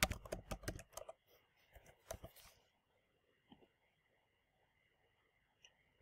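Quick key clicks on a computer keyboard as a show name is typed into a search box, a dense burst of close, light tapping for about two seconds before trailing off into a few faint taps.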